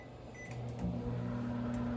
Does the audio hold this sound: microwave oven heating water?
yes